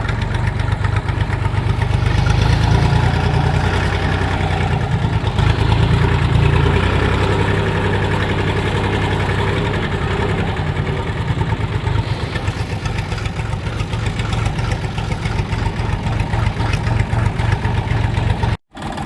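The engine of a KM385 mini tractor fitted with a Bomet conveyor potato digger runs steadily near by, a loud continuous knocking rumble that holds for the whole stretch and drops out sharply just before the end.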